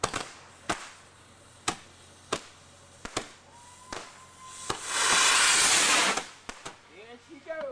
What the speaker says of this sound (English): There she goes. Here's your little miniature rocket.